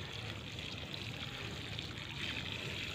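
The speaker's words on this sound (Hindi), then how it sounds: "इसमें थोड़ा पानी डाल दूँगी।" Water is poured onto compost around a pumpkin plant, giving a steady, close trickling pour that runs unbroken for about three seconds with no talk over it.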